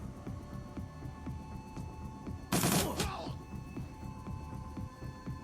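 One aimed gunshot is fired at a blood mage in the Shadowrun: Dragonfall video game, a single sharp loud burst with a short ringing tail over a low humming game backdrop.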